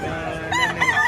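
A rooster crows amid the bustle of a Batangas chicken market, its call rising over a low din of background chatter and activity, short and fairly close.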